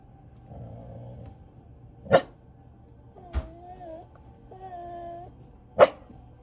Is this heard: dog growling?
yes